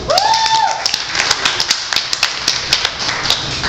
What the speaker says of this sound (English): Let's get another round of applause for our host tonight